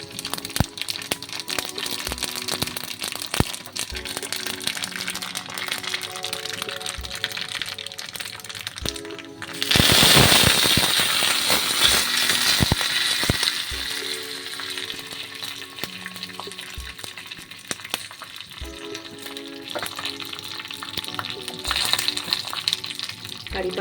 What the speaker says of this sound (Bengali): তেল গরম করে এতে শুকনো লঙ্কা দিলাম